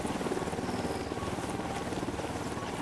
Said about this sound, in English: helicopters coming in